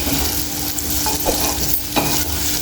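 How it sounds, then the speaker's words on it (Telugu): Potato and carrot frying in a pan, a loud close sizzle with stirring scrapes against the pan throughout the short stretch, with no voices. "ఆలుగడ్డ క్యారెట్ ఫ్రై"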